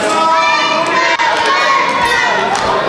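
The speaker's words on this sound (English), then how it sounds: "Hear the crowd here in Rogersville get behind Jeff Conley" At a wrestling show in Rogersville, a lively crowd cheers and shouts for wrestler Jeff Conley, a dense, continuous roar of mixed voices with scattered higher yells.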